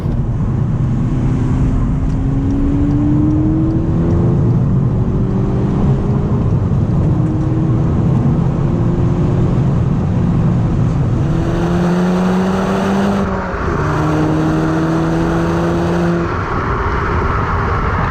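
A VW Golf GTI MK6 Edition 35 accelerates hard in first gear on a wet road, its engine note climbing steadily in pitch through repeated rising sweeps, loud and close throughout.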